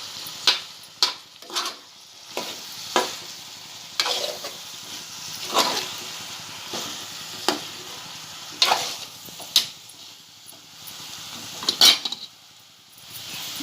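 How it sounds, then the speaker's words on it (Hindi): A spoon stirs red masala and turmeric in a frying pan, giving irregular scraping clinks against the metal over a light, steady sizzle, with no talking. "लाल मसाला, हल्दी डालूंगी और चम्मच से हिलाऊंगी।"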